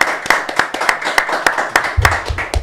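Several people clap in a podcast studio, a close, loud run of distinct claps in a fairly even rhythm, with a low voice murmuring underneath toward the end.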